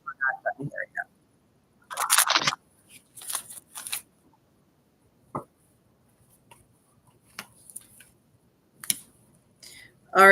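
Tarot cards being shuffled in short, soft bursts of riffling and slapping, separated by quiet gaps and scattered light clicks, close and faint, without talk.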